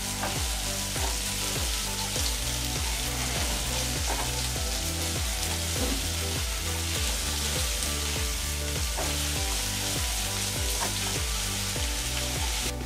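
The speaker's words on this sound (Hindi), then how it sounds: "अब कटे हुए प्याज को मिला के हम गोल्डन ब्राउन होने तक भूनेंगे।" Chopped onions fry in hot oil for an aloo mutton curry, giving a steady, continuous sizzle over nearly thirteen seconds, with a rhythmic tonal backing running underneath throughout.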